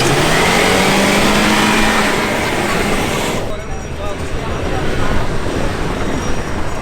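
A Land Rover at full throttle off-road in sport mode gives a loud, close, sustained engine roar with rushing noise, easing slightly midway and then surging again.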